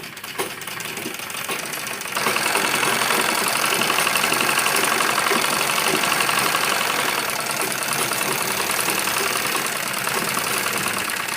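A sewing machine runs along the edge of a kurti seam during an alteration. The motor buzzes loud and continuous from about two seconds in, after a quieter start.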